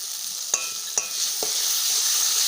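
Yogurt stirred into sizzling fried spices in a pan while cooking palak paneer, with a few soft scraping clicks of a spoon over a steady, close hiss of frying.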